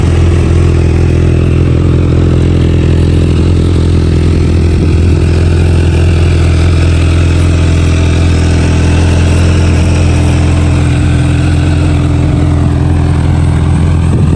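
A superbike's engine idles loudly and close at a bikers' meet-up, holding a steady, even rumble with a faint mechanical clatter for the whole stretch.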